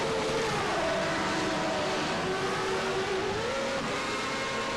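A Lola Formula 1 car engine in a racing video game drones steadily off the grid, a loud continuous tone that dips and climbs as the revs change, with no one talking.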